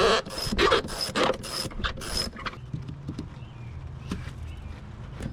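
Intake hose being pulled off a 4th gen Toyota 4Runner V6 engine, a burst of sharp rattling and scraping clicks up close, then quieter handling noises.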